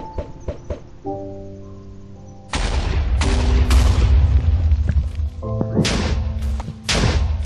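Loud, booming TNT explosions from a video game mod erupt in quick succession after a quieter opening of clicks and tones, with heavy rumbling thuds layered over game sound effects.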